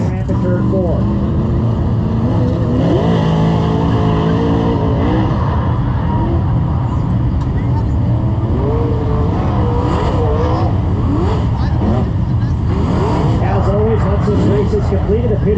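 A 360 sprint car rejoining the field at Placerville Speedway, engine roaring steadily alongside other cars circling the dirt track, under continuous loud announcer commentary.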